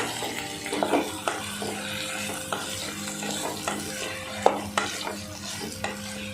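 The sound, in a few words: okra being stir-fried with onion and tomato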